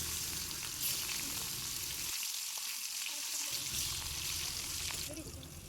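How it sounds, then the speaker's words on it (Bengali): Pangas fish frying in hot oil, a steady dense sizzle running throughout, close and loud, briefly thinning for a moment in the middle before returning to full crackle. "তেল গরম হয়ে গেছে, মাছগুলো ভেজে নেব।"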